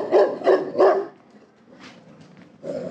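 A dog barks in the background, three sharp barks in quick succession followed by a pause and another bark, moderately loud and somewhat distant-sounding.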